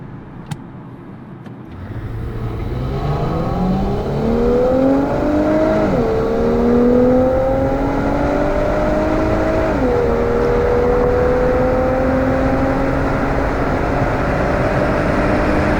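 An Infiniti Q60 Red Sport 400 launches hard in an acceleration test, its engine note climbing steadily from near silence, with two clear upshifts where the pitch drops before rising again, a sustained loud whirring roar without voices.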